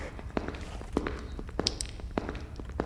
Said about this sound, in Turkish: Benim ayak sesim olabilir.